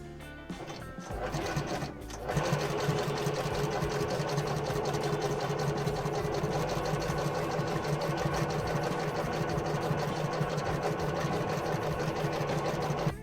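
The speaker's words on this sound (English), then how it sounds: "So now I'm going to show you how to do this on a sewing machine." A sewing machine sews a straight stitch on overlapping apron fabric, its motor whirring and needle clattering in a continuous mechanical rhythm after a brief start-up, with no talk over it.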